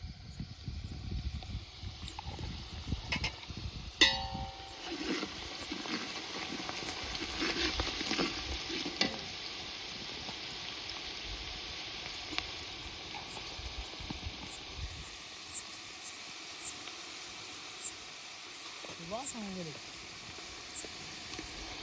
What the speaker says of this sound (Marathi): आता तेलात तळून घेतला लाल तळलेला